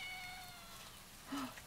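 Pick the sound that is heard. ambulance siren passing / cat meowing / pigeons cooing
cat meowing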